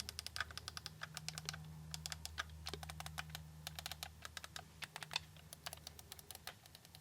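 The modified face buttons of a PlayStation 5 DualSense controller fitted with an Extremerate clicky kit are pressed rapidly, producing a quick, crisp stream of close, light tactile clicks over a faint background hum.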